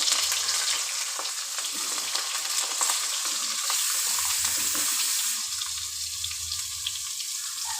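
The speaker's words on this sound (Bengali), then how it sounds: "এবার আমি দিয়ে দেবো তেলের মধ্যে বেগুন আর আলুটা।" Cubed eggplant and potato crackle and hiss steadily after going into hot oil for a spinach dish, a loud, dense fry that eases briefly midway and then carries on with no voices.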